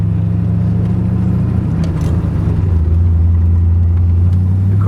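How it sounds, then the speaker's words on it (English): A 1973 Corvette with a 496 big-block engine and four-speed gearbox drives through a neighborhood, its deep low rumble holding steady and close, the pitch dropping a little as it settles. "showing you a 73 Corvette 496 big block, and it's a 4-speed car. We're kind of driving in a neighborhood."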